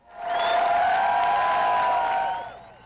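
A crowd cheers at the Vancouver Gay Pride parade, a sustained swell of applause and cheering, loud and steady before fading out, with a high whistle-like tone running through it.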